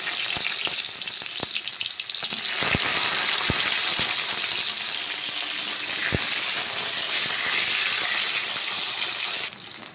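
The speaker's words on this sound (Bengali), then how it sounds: "বৃষ্টিও একদম স্টার্ট হয়ে গেছে বেশ ভালোই জোরে বৃষ্টি আসছে" Loud, steady broadband hiss of heavy rain pouring down, with scattered sharp ticks and knocks, continuous and close.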